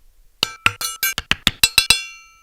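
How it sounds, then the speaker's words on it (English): Cumin is struck repeatedly with a metal cheese grater slicer in a kitchen: about nine bright, ringing clinks in quick, uneven succession, close and crisp, the last one left to ring out and fade. "why don't we just try hitting it with some of the other tools in the kitchen, like this cheese grater slicer"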